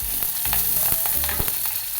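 Green chillies sizzle loudly in hot oil right after mustard seeds have popped, a dense steady crackle with sharp pops and occasional stirring scrapes, close up with no talking.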